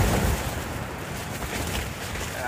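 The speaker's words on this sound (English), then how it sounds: "the tent's still almost doubling over when I get these good gusts." Wind gusting hard against a tent, a rough continuous rush with fabric flapping and buffeting, fairly quiet overall.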